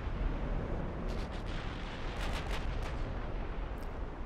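Naval gunfire in the warship game Ultimate Admiral: Dreadnoughts: a continuous dense roar of cannon fire and booms, with heavier bursts clustered in the middle, loud and broadband with no voices.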